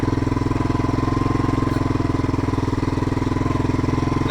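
A Yamaha Big Bear 350 ATV engine pulls a roughly 500-pound trailer through mud, its close, loud, rapid pulsing thrum running at a steady pace throughout.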